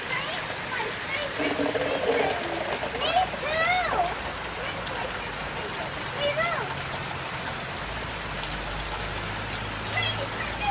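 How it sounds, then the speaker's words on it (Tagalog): Heavy rain falls steadily in the Philippines as a constant broadband wash, with people talking over it throughout. "Lakas ng ulan."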